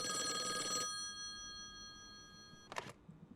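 An in-game telephone rings in Call of the Elder Gods, a brief electronic trill that cuts off after under a second, followed by quiet and then a short burst of a second ring or clatter.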